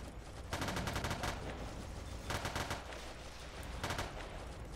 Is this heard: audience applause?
no